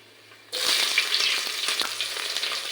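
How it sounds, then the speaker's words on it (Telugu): Biryani whole spices dropped into hot oil break into a sudden loud sizzle that keeps crackling steadily for a couple of seconds, close and alone. "ఆయిల్ వేడెక్కిందండి బిర్యానీ స్పైసెస్ వేస్తున్నాను ఫ్రై చేసుకొని తర్వాత ఉల్లిపాయ పచ్చిమిర్చి వేసుకుందామండి"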